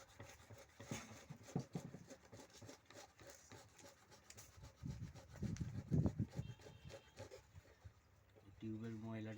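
A syringe rubs back and forth along a tube to scrape dirt off, producing irregular, close scratchy strokes that grow louder in the middle and then fade.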